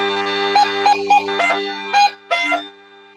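Slovak gajdy bagpipe played with the fifth chanter hole open: a steady, buzzing drone runs throughout while short, bright chanter notes and trills sound over it, loud and close, with no talking.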